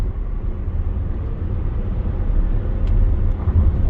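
A Ford E-Transit electric van accelerating on a quiet road: a steady low rumble of road and wind noise heard from inside the cab, swelling slightly toward the end, with no engine note.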